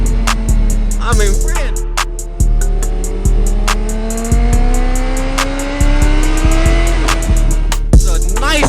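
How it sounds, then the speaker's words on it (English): A loud 600RR sport motorcycle on a winter test ride revs through repeated climbing pulls, its pitch rising and dropping abruptly at each gear change, with wind rush throughout and no talk over it. "I mean, just listen to that."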